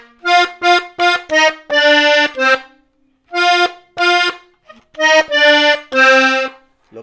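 Accordion plays the melody of a song slowly, loud and close, in short phrased bursts of sustained reedy chords with brief gaps between them and no talk over it.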